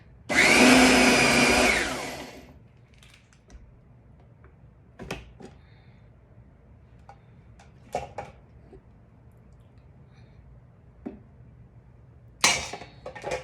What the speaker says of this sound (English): those berries are all ground up in the food processor